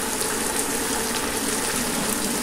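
Hot water pours into a cooking pot in a home kitchen with a steady, close gushing splash that lasts throughout.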